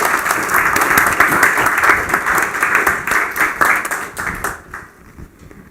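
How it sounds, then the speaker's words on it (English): An audience at a leadership book launch gives a round of applause, loud, dense clapping close by that holds steady for several seconds and then dies away. "A round of applause to Dr. Bernard"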